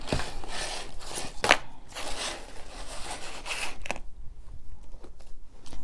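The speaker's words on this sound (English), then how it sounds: "so if I put it like that, we're going to cut it right here" Material being cut for homemade designer-inspired boots gives a few short crisp snips and rustles up close, followed by a quieter stretch of faint handling noise.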